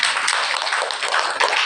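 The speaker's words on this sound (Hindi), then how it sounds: "ताली बजाओ।" An audience claps together in a steady, dense wash of applause at a spiritual gathering, continuous and fairly loud, with little talk over it.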